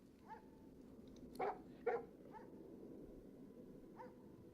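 In Divinity: Original Sin 2, a game dog gives two sharp barks close together, framed by softer yips before and after, over a quiet low ambient background.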